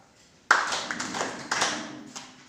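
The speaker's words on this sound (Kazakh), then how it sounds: "3 шапалақ." A school classroom full of students clapping together in unison, a dense burst of many hands beating a few ragged rounds close by, then fading into scattered claps.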